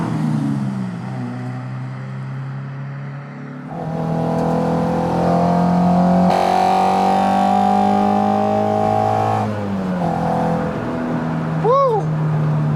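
A street-driven car fitted with 10,000 RPM individual throttle bodies climbs through a loud, rising rev after a quieter stretch, holding a bright high-pitched howl for several seconds before dropping back, with a brief squeal near the end.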